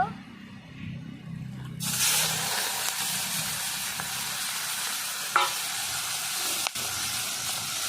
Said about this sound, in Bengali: এবার আমি কেটে নিয়ে চিংড়ি মাছ ভেজে নেব